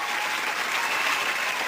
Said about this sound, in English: So let's have another great big Samsel Report round of applause for Miriam Carey.